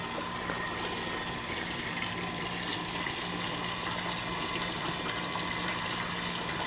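Polluted, murky water pours steadily from a household drinking-water supply tap in a city ward, giving an unbroken, even rushing hiss from start to finish with no talking.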